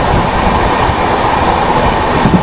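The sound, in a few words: train overtaking the Shridham Superfast Express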